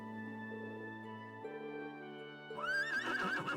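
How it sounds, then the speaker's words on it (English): A horse in the video game Trails of Cold Steel II gives a loud, clear neigh that rises into a wavering whinny near the end, over steady tonal game music. "Horse."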